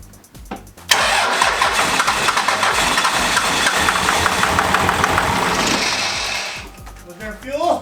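A Cummins diesel engine cranks briefly then catches and roars to life, running loud and rough for several seconds before easing down, with voices faintly heard near the end.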